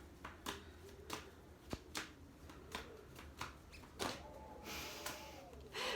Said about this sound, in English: So I'm shuffling the cards now for Monday, the 30th of December